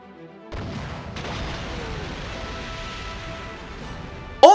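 A missile explodes in a Dreamcast driving game, a sustained rumbling blast with crackling debris that holds steady for several seconds and ends with a short burst of louder sound.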